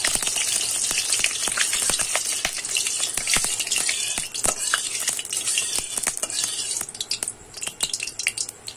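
Ghee melting in hot oil in a pan for a Bengali raw-banana kofta curry gives a continuous close sizzle, with frequent scraping and tapping of a utensil stirring against the metal.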